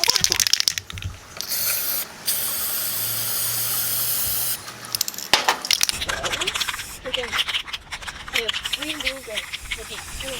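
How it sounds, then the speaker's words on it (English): Spray paint is hissed into a tub of water for hydro dipping, in steady bursts of spray, with a short mechanical clicking and a voice speaking near the end. "we're gonna take our two colors and we're gonna spray it in there"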